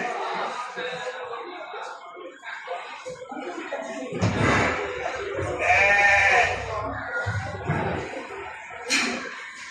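Gala breed sheep bleat at a busy livestock market in Mashtaga, several drawn-out calls rising over a steady crowd murmur, with people talking nearby throughout.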